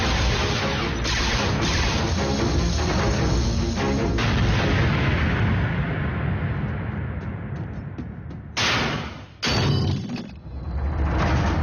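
Loud, continuous cartoon explosions and blasts from an Autobots-versus-Decepticons battle in Transformers Prime roar through the whole scene, with a few sudden cut-offs and renewed booms toward the end.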